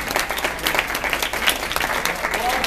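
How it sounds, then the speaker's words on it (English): Short, lively round of applause from a small crowd at a hair salon gathering, brisk overlapping claps with a few voices and whoops mixed in. "I'd like you to give them a big round of applause"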